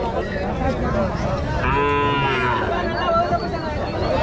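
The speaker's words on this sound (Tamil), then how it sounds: "கண்ணுக்குட்டி எப்படி அழகாக இருக்குது பாருங்க, காளை கன்று." A bull calf at the Madrapalli cattle market in Tirupattur lets out one loud, drawn-out moo midway, over a noisy background of market bustle and faint voices.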